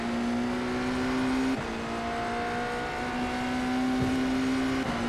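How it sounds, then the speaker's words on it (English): A BMW M Hybrid V8 GTP race car with a 4-litre V8 hybrid powertrain holds a loud, steady engine drone heard from inside at constant pitch. The note drops briefly once, as if on a gear change, then climbs in small steps. "V8, 4-litre engine, 640 horsepower it's producing, plus whatever's coming from the electric motor of the hybrid"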